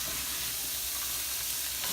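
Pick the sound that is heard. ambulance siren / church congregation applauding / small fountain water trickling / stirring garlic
stirring garlic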